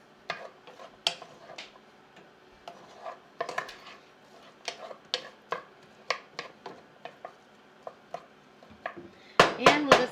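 A big onion being chopped and stirred in an oiled pan, with sharp knife and utensil knocks in an irregular rhythm and a louder clatter of pan and tools at the end, with no speech.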